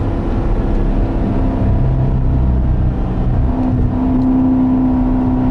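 A 2016 Corvette Stingray engine revs and pulls steadily on the Pacific Coast Highway in California, a loud continuous drone with rising and shifting tones under wind and road noise, no voices.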